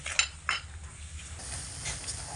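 Vegetables with chilli powder, turmeric and Maggi masala stir-fried in a pan, a couple of metallic clinks and scrapes of a utensil against the pan over a low background sizzle.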